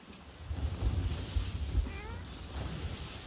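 A cat meows softly a couple of times in Sea of Thieves, set over a steady background of wind and sea ambience on a small solo sloop.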